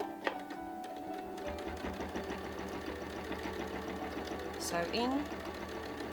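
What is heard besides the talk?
sewing machine stitching quilt swirls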